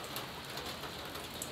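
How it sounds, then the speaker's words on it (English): Rain falling outdoors beside a 1948 Oliver 70 tractor, a faint, steady hiss of drops with scattered soft patters and no talking. "it's raining"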